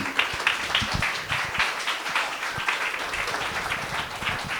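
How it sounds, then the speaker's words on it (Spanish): Audience applause after a talk at a Benalmádena event, a steady wash of many hands clapping, fairly close and continuous, with a few faint voices mixed in. "Espero que escucharas ese aplauso que te han dado todo el mundo"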